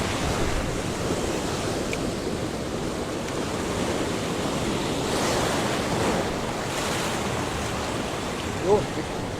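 Large surf breaks and washes steadily along a shoreline during shore casting, a continuous broadband roar with wind buffeting the microphone throughout and no distinct individual crashes standing out.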